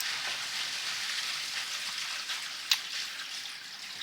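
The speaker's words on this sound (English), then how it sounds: "all the water that runs throughout the house ends up running through these pipes down here" Water rushing through household pipes in a basement, a steady soft hiss like light rain that runs throughout, with one brief faint knock near the end.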